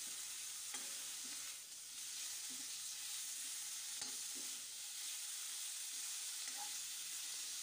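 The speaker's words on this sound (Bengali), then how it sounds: "পেঁয়াজ বাটা দেওয়ার পর একটু নেড়ে চেড়ে নিচ্ছি।" Green beans frying in a pan with onion paste, a steady close sizzle under occasional stirring scrapes, for a Bengali bean and poppy seed dish; no talking.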